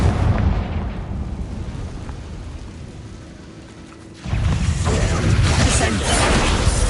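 A Confringo fire-spell blast in Hogwarts Legacy on PS4 lands as a heavy rumbling boom, fading into a low roar before a second loud burst kicks in and holds amid continuous game noise.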